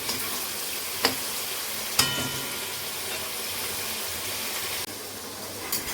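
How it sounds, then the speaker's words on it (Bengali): Meat and beans frying in a pan: a steady hiss of sizzling throughout, broken by a couple of sharp knocks from a utensil, with no talk. "মাংসগুলোকে ভেজে নিই ভালো করে আর এদিকে এই যে এখন বিনস যেটা আছে সেটাকে ভেজে নিচ্ছি"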